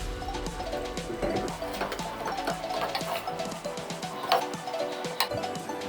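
Vegetable kootu curry with yam and chana dal stirred in a pressure cooker pan, light clinks and scraping taps of a spoon against metal, close and fairly quiet.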